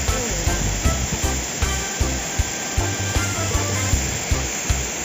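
A waterfall high on a mountain, with a steady, loud broadband rush of falling water running unbroken throughout and small periodic knocks over it.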